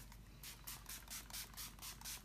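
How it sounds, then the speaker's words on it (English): Tea-scented Slay All Day setting spray by Gerald Cosmetics is pumped onto a face in about eight quick, close hissing bursts in a steady rhythm. "I spray with the Slay All Day Setting Spray by Gerald Cosmetics."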